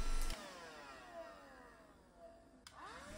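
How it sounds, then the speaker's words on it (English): A Black+Decker Dustbuster QuickClean cordless handheld vacuum runs at close range with a steady motor whine and faint broadband hiss, its pitch wavering slightly, with a brief click near the end. "To operate this vacuum is very simple."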